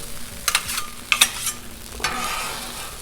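Vegetables being tossed and fried on a Blackstone griddle, a sizzling hiss punctuated by a few sharp spatula clanks and scrapes against the flat steel top, fairly close.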